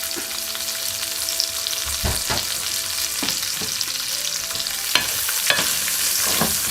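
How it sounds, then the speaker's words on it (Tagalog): Garlic sautés in a pan for sizzling beef lengua, a bright, constant sizzle close up with periodic clacks and scrapes of a spatula stirring, loud and free of voices. "O ngayon naman, magigisa na po tayo. Lagay na po natin ang bawang."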